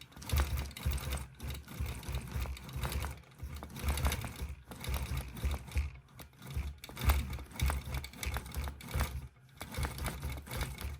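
Gammill longarm quilting machine stitching a table runner, a steady mechanical whir with rhythmic needle clatter that pauses briefly and restarts several times, close and fairly loud, with no voices.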